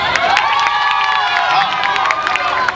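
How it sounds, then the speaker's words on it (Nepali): Audience at the Rambazar festival in Pokhara, Nepal, cheering and clapping, a dense continuous roar of voices and whoops with scattered sharp claps, loud and close throughout. "ताली बजाऊ"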